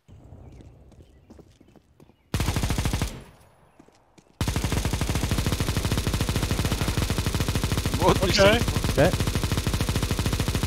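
Rapid bursts of automatic gunfire from a CS:GO match, loud and sustained after a brief quiet stretch, with fast repeating shots and brief talk.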